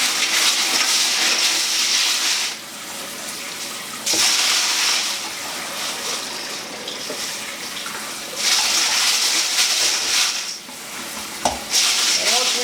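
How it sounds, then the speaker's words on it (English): Running water rinses grit off polished Lake Superior agates, a steady loud splashing rush that swells and dips over several seconds, with occasional clicks of stones knocking together. "I'm just rinsing off all the grit off of these finished agates."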